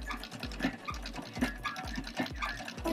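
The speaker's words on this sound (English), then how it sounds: "But we are winding the bobbin." A bobbin winds on a spinning wheel with a regular, rhythmic whirring and soft scraping, each turn marked by a low thump, close and moderately quiet.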